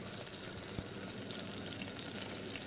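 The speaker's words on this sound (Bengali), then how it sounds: "চুলার আঁচটা অবশ্যই মিডিয়াম লো করে একটু সময় নিয়ে নাস্তাটা ভেজে নিতে হবে" A potato snack deep-fries in oil over medium-low heat, a steady dense crackling sizzle with faint pops, close and continuous throughout with no talking.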